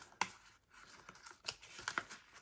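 Paper is folded and creased by hand to form an envelope, soft close crinkles and a few sharper crisp snaps of the sheet, quiet and sparse.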